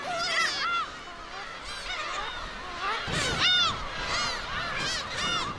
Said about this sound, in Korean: 번식을 위해 독도를 찾은 괭이갈매기.